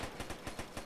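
Rapid automatic gunfire aimed at an enemy, a steady rhythmic string of about eight shots in under a second, fairly faint and distant-sounding.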